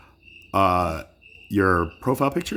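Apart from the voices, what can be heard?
crickets chirping in the background outdoors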